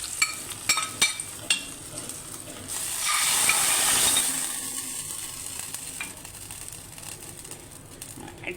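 Hot fried curry-leaf tempering is poured into a mango curry, starting with a few clicks and stirs before a loud sizzling burst that hisses and slowly fades. Nobody speaks.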